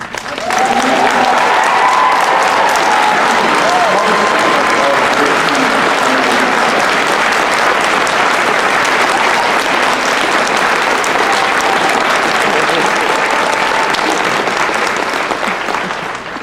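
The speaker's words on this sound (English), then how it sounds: "let's give it a round of applause to you" A large convention audience at a Supernatural fan event in Las Vegas applauds Erin, producing loud, sustained, dense applause for over fifteen seconds, with faint cheering voices mixed in.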